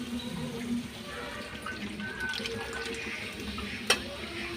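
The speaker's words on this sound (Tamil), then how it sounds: "இப்போ நம்ம புளி கரைச்சி அதை கொஞ்சம் ஊற்றிக்கலாம்" Tamarind water pours into a pan of egg curry, making a soft, fairly quiet trickling splash with a light simmering sizzle, then a sharp clink near the end.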